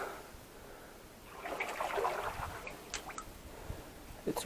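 Boots sloshing and squishing through water while wading in a flooded mine, with soft drips and splashes that build in the middle. Quiet, close and wet, with no talking.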